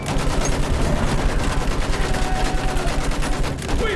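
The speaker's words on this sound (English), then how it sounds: "Use that machine gun!" Dense, rapid machine gun fire in the World War I shooter game Battlefield 1, loud and unbroken for the whole stretch with overlapping bursts and no talking.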